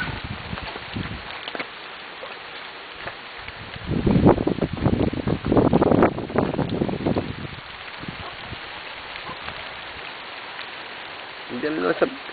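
Rain falls steadily as a hiss that swells into a louder downpour midway, then eases, outdoors near a catfish-raising site, with people talking over it.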